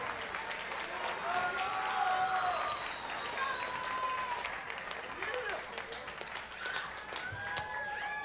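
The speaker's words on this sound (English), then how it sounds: "can I get a big round of applause for our heavyweight war?" An arena crowd applauds a heavyweight mixed martial arts bout after three rounds, a steady wash of clapping and cheering held at moderate distance, with voices calling out through it.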